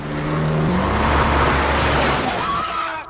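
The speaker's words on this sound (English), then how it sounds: "Hannah reverses the car right into where Mailer was coincidentally just outside" A car engine revs as the vehicle reverses in a film scene from 28 Days Later, a loud close motor roar swelling and then fading at the end.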